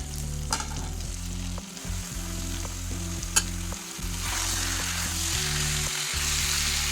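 Bottle gourd and tomato frying in a pan with spices, a continuous sizzle under repeated scraping strokes of a spatula stirring the pan, fairly quiet and close with no talking.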